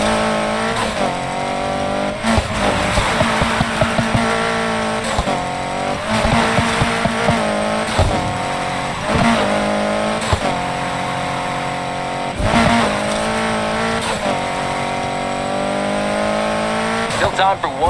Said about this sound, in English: Still time for one good drift, maybe? It's all about control.